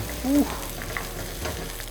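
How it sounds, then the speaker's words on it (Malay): Rice is stirred and tossed in a hot pan, soft scraping and a low sizzle, fairly quiet and steady. "sekarang ni kita gaulkan nasi kita"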